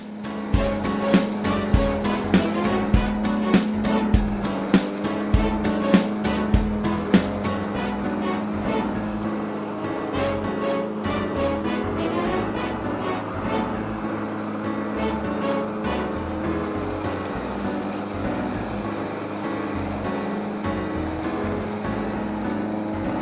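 A riding lawn mower fitted with a leaf collector runs steadily and fairly close, its engine drone continuous throughout with rhythmic clattering bursts early on as it sucks up leaves.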